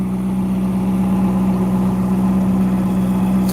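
A Ferrari 488 GTB's twin-turbo engine with a 7-speed dual clutch automatic runs steadily at idle, a loud, even low drone with a constant hum and no talk over it.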